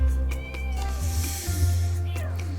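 A cat siren in the Two Point Hospital game: repeated meowing, wailing cat tones over a steady low hum, loud and continuous, with faint talk underneath.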